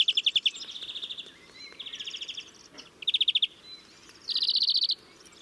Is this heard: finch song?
yes